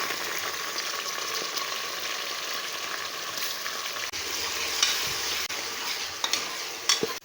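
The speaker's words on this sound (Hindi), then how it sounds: "लहसुन अदरक की अच्छे तरीके से भुनाई हो चुकी है" Garlic-ginger paste sizzles and crackles steadily in a hot pan, with occasional stirring scrapes, close and continuous.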